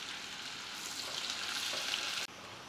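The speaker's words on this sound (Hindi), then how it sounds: "गैस का फ्लेम हाई करके हम प्याज के कलर चेंज हो जाने तक फ्राई करेंगे।" Chopped onion frying in a pan over a high gas flame, giving a steady, close, continuous sizzle that runs unbroken and cuts out briefly near the end before resuming.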